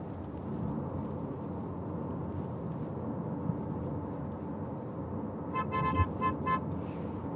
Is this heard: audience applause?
no